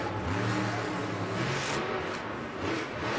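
Monster truck engine at a Monster Jam freestyle show in Atlanta, a steady, loud mid-pitched roar with harmonic drone that eases slightly toward the end, heard from the arena amid crowd noise.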